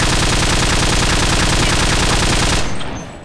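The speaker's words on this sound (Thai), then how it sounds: "ต่อไปผมจะซูมแล้วยิงค้างยิงค้างดูนะครับ" Sustained automatic gunfire from the video game CSPB, a loud continuous stream of rapid shots with no break, cutting off abruptly near the end and leaving a short fading tail.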